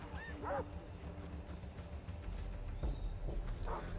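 A dog in the video game Far Cry 3 gives a few short yips and whimpering barks at mid distance, set against a steady low ambient game rumble.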